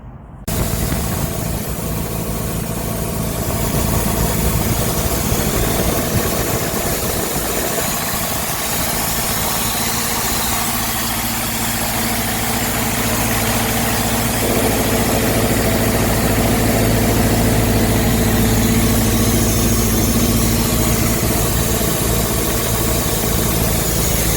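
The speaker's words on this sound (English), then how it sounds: "So anyway, we'll go ahead and fire it up." Engine cranks, fires and settles into a steady, loud idle, a continuous low rumble with mechanical vibration that drones on without a break while warming up, no voices over it.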